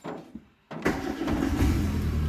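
A Chevrolet Spark's engine cranks briefly after a short pause, then catches and settles into a steady running rumble, loud and close.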